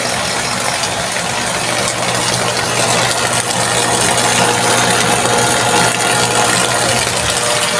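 A water pump motor with a newly replaced bearing hums steadily and loudly at close range, a constant mechanical drone with a low whirring tone that never changes.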